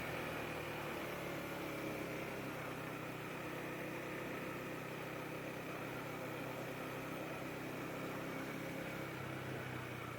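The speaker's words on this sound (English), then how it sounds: "Ah, trash truck." A trash truck's diesel engine idles nearby, a steady low rumble with vibration that holds evenly throughout, with no talk over it.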